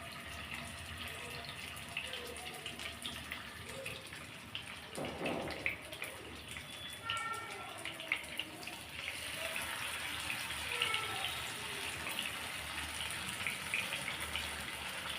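Masala-coated fish pieces are laid one by one into hot oil, producing a soft hissing sizzle that grows louder and steadier partway through, with faint clatter and no talk.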